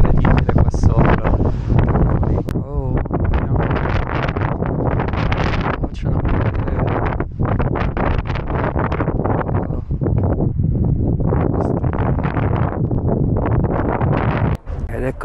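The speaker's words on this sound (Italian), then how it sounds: "C'è un vento incredibile qua sopra." Strong, gusty wind buffets the microphone at a high mountain viewpoint in Madeira, loud roaring rushes with brief lulls and a few clicks, and a voice is faintly heard.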